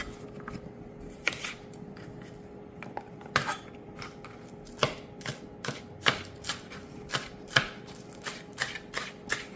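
Knife chopping scallion on a cutting board for jerk BBQ meatballs, a steady run of sharp, close taps, some spaced and some in quick pairs, with no talking.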